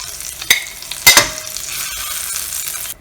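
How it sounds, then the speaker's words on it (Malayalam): Tandoori chicken fries in an open pan over a low flame, giving a steady soft sizzle with a few brief clacks of a spatula stirring, close and alone. "നമുക്കിതിനെ ഇതൊന്ന് തുറന്ന് വെച്ച് ലോ ഫ്ലെയിമിൽ കുറച്ചും കൂടി ഒന്ന് ഡ്രൈ ആക്കി എടുക്കാം."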